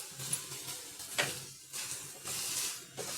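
Mango pieces and spices sautéing in a pan, a soft sizzle with a few bursts of stirring, moderately close and fairly quiet, no one talking.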